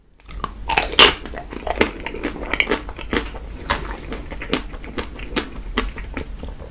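Someone bites and chews Tico chocolate ice cream with Nutella and Hershey's chocolate, giving close, crisp crunches and wet chewing in an irregular rhythm with no talk.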